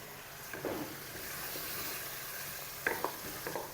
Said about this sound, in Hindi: आलू को 2 मिनट तक मैंने भुनाई कर लिया